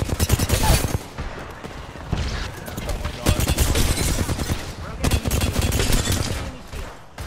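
Rapid bursts of video game gunfire crackle through most of the stretch, dense fusillades with brief lulls near the two- and five-second marks, loud and up close while players talk over the shooting.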